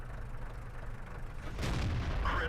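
A tank cannon shot in World of Tanks sounds as one loud, broad boom about midway through, rising out of a steady low rumble and leaving a sustained roar behind it.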